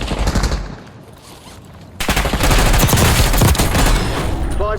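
Rapid automatic gunfire in Call of Duty Warzone on Xbox Series X, loud and close, with sustained bursts that grow denser and louder partway through over a dense wash of combat noise.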